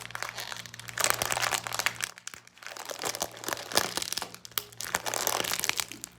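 A crinkly plastic packet of salted seeds is torn and worked open up close, giving loud bursts of crackling and crunching with short pauses between them.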